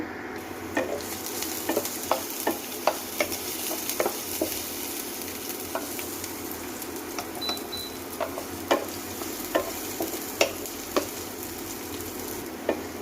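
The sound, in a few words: chopped garlic frying in hot oil in a wok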